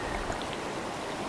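Steady rushing water from a flowing stream over a weir in Lathkill Dale, Peak District, a constant close wash of sound with no voices.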